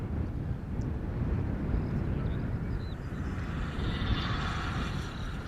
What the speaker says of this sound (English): be an A319 from EasyJet inbound from London Gatwick